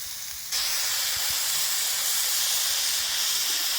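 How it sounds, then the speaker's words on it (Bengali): Ridge gourd frying in hot oil without salt makes a loud, steady sizzle that starts abruptly after a brief quieter moment and then holds evenly. "ঝিঙেটা আমার আস্তই থাকতে হবে সেই জন্য আমি লবণ ছাড়া ভেজে নিচ্ছি"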